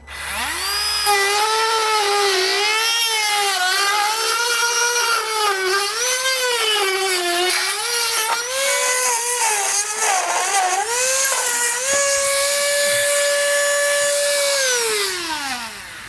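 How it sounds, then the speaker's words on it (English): A Dremel rotary tool trims a plastic shock pad during a base plate installation on a 2013 vehicle, its high whine rising and falling with the load as it cuts, loud and continuous, then steadying toward the end before spinning down. "I'm just going to use a Dremel tool to get it trimmed out."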